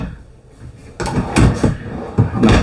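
A non-soft-close cabinet drawer in a 2024 Durango Gold 382MBQ fifth wheel RV slides and shuts, giving several close, loud thuds and rattles over a couple of seconds.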